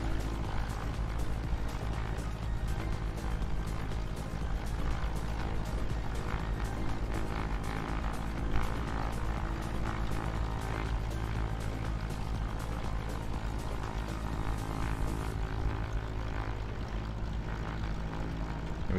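Steady, continuous engine and propeller drone of an aircraft taking off in a flight simulator game, a dense broad roar holding level for the whole stretch, with no talking over it.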